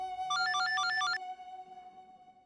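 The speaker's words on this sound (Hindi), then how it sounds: "मम्मी के घर से फोन आ रहा है।" A phone rings with an incoming call, playing a bright melodic electronic ringtone with quick repeating notes over a steady tone, which then cuts off and leaves a fading hum.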